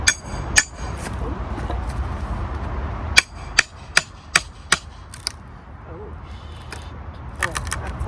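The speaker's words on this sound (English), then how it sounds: "Back to the crowbar." A crowbar pries apart a wooden pallet outdoors at an allotment, giving a series of sharp, close cracks and knocks of wood and metal, some in quick succession, with quieter rustling between them.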